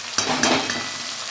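Onion, tomato, green chilli paste and half a spoon of ginger-garlic paste fry in a pan with a steady, close, hissing sizzle, broken early by three soft clinks of stirring, with no voices.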